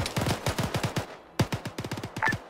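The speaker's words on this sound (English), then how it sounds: "I'm hearing a lot of gunfire your way" Rapid bursts of automatic gunfire from a military shooter game set in Kidal, with dense rattling volleys, a pause and then more close, punchy fire.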